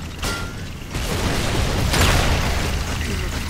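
A frag grenade goes off in a video game with a loud, broad explosive burst and rumbling tail, stacked on dense game noise with a sharp crack at the start and another surge midway.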